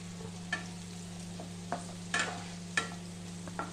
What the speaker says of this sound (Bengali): এবার পেঁয়াজটাকে খুব ভালো করে ভাজা করে নেব।